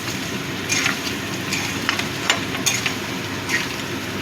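Potatoes with cumin fry in a pan under a steady, fairly loud sizzle, broken by light scraping stirs and small crackles, close and without talk.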